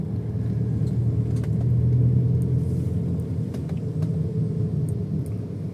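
A modified Toyota Vios Limo (GR TRD Sportivo build) driving through the city, heard as a steady low engine and road rumble from inside the cabin, continuous and fairly loud with no talking.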